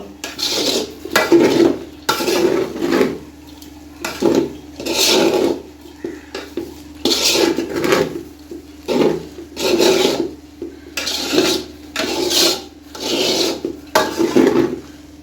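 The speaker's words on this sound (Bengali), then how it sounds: "এখন এগুলো আমি ভালো মতো একটু নেড়ে চেড়ে নিব" Thai-style fried rice being stirred in a pan, a rasping, scraping utensil against metal in repeated bursts of about a second each, close and fairly loud, with short quiet gaps between strokes and no talking.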